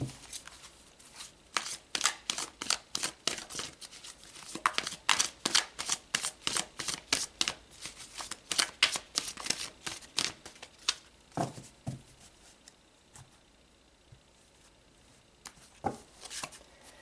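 Tarot cards shuffled and drawn at close range: a long run of crisp, rapid riffling flutters in quick bursts, thinning into a few isolated flicks and slaps of cards being pulled and laid down, with no voices.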